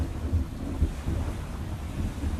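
Thunder from procedural lightning in a video game storm, a low continuous rumble with rolling swells, heard alone over steady noisy wind-like wash.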